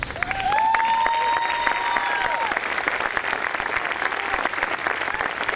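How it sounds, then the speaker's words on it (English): A university audience at a State of the University address applauds a student soccer player and his coach, with sustained full clapping, a few whistles or cheers rising early, and a steady roar to the end. "some of that applause was for Kevin and some of it was for that great victory last night"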